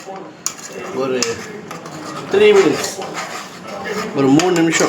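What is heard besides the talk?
stir-frying mutton curry in a pan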